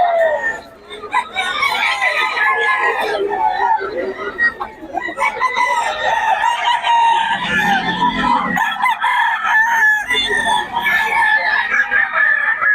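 Roosters and chickens at a Friday fowl market in Bocaue, with loud nearby crowing and clucking that overlap throughout, layered over crowd noise.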